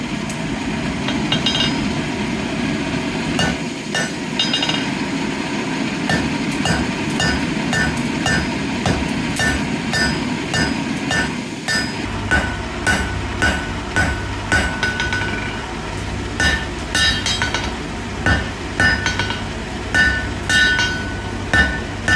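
A blacksmith's hammer strikes hot metal on an anvil while forging a leaf, ringing in a steady series of sharp clinks that grow quicker and more rhythmic in the second half, over a low background hum.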